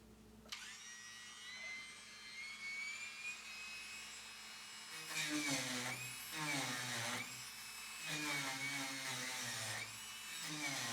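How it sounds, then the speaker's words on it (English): A Dremel rotary tool spinning a small wire wheel on a 1976 Toyota Celica RA24 rally car body during seam welding prep, a high steady whine that drops and rises in pitch as it bites into the metal in repeated short passes. "I found a wire wheel for my Dremel. Should be perfect for such a small area."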